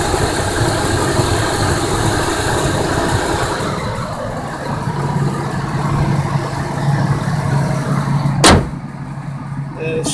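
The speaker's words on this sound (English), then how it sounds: "See the fans running." Radiator fans whir in the engine bay of a 1998 Ford Expedition, a steady broadband rush over the idling engine, with a sharp knock near the end.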